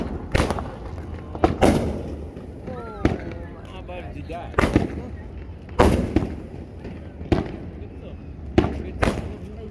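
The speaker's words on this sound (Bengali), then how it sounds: "এই যে দূরে বাজি ফুটাচ্ছে, আতশবাজি, সবাই বসে আছে।" Fireworks on Independence Day in the USA, watched from a crowded riverside: repeated booming bangs every second or two, distant yet strong and echoing, over outdoor ambience with voices and a faint whistling sweep between bursts.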